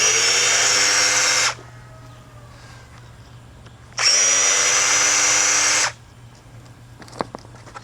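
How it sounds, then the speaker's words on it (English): A power drill spins screws out of a car door panel during reupholstery, two steady whirring bursts of about one and a half and two seconds with a quiet pause between, followed by a few faint clicks. "Take these screws out first."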